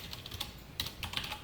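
Close, fairly quiet computer keyboard typing, a few separate keystroke clicks and short bursts while a line of JavaScript code is entered, with no voices.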